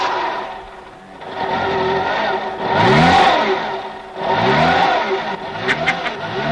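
A car engine revs up in several rising surges, loud and close, with a steady idle hum between the bursts.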